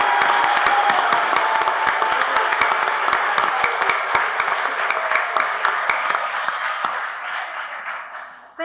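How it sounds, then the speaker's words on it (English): An audience at an all-candidates town hall meeting gives a long, even round of clapping, thick and continuous, gradually thinning toward the end before a voice starts. "I'd just like to allow you to have one big clap for Teddy and for all the candidates for their introductions."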